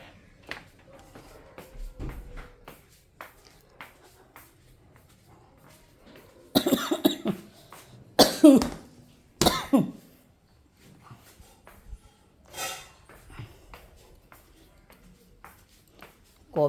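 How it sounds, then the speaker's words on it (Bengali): Repeated coughing in a home kitchen comes in short bursts, a few loud clustered coughs in the middle and fainter ones scattered before and after, with quiet household sounds between. "কবে থেকে এই কাশি হয়েছে, কাশিটা কমছেই না"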